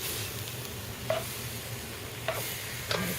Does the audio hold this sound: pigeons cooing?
no